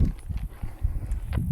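A horse's hooves step on the ground in a few close, uneven thuds, loud and brief with no voices.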